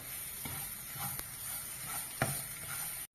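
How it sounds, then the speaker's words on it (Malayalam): Chili, coriander, turmeric and masala powders sauté in a pan as a chicken biriyani base, with a steady close sizzle, occasional scraping stirs and a few sharp spoon knocks against the pan. "മുളക് പൊടിയൊക്കെ നന്നായിട്ട് മൂത്ത് വന്നിട്ടുണ്ട്"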